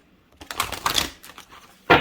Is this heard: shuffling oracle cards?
yes